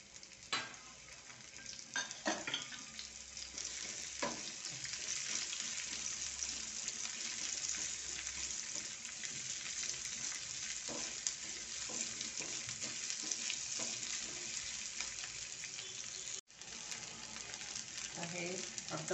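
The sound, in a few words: sliced onion frying in oil for Marathi curry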